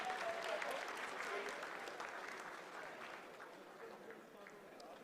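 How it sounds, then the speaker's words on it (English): Applause breaks out in the mission control room during the Chandrayaan-3 lunar soft landing, a sustained wash of clapping that slowly fades, with voices mixed in underneath. "Lot of applause"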